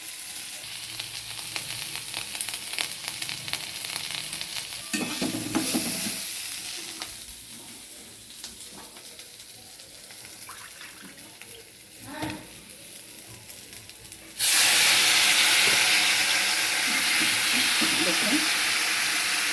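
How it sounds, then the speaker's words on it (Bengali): Potatoes with spices and dried chilli fry in a pan, giving a continuous crackling sizzle with stirring scrapes, then a sudden louder burst of hissing partway through. A voice speaks briefly over the cooking. "মশলাটাকে কষিয়ে নিচ্ছি।"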